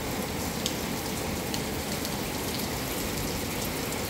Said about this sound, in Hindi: अभी बारिश आ गई है